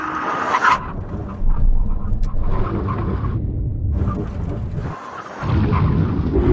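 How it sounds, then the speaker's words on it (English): A Ferrari 488 brakes hard from 70 mph in an emergency stop test, its engine roaring loudly up close, then easing off as the car slows and comes to a halt, with rumbling wind and road noise around it. "Now we're going for a brake test from 70 miles an hour."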